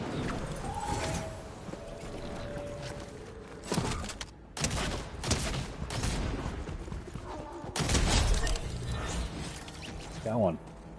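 Rapid gunfire in the video game Fortnite during a spooky-season match, bursts of shots and thuds crackling through continuous game noise and movement while players talk over it.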